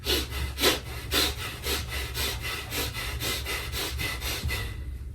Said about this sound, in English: doing those breaths in and out of the nose, faster than normal and loud enough